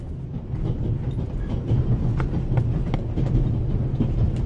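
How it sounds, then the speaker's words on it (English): Steady rumble and clatter of a moving train aboard the Orient Express, a continuous close interior rail noise with faint rhythmic clicks and no voices. "The noise on this train is driving me crazy."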